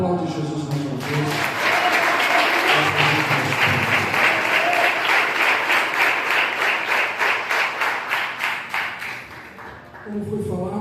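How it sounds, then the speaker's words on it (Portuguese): A church congregation applauds in sustained, loud, dense clapping that carries on for several seconds before thinning out near the end, with a voice briefly heard at the start. "Aplaude Jesus mais uma vez."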